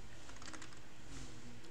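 A short flurry of keystrokes on a computer keyboard during home Slackware server setup, quick clicks clustered near the start, then a softer tap or two, close and fairly quiet.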